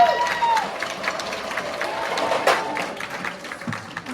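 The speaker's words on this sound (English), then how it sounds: "So let's get a round of applause for the parents." Audience at a winter school band concert clapping for the parents, a moderate scattered patter of applause from the hall, fairly even throughout with occasional louder claps.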